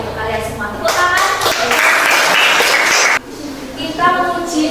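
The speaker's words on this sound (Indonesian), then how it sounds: "Tepuk tangan." Classroom applause from students, a short burst of clapping mixed with children's voices and chatter.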